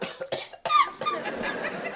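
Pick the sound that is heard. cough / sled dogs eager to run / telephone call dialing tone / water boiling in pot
cough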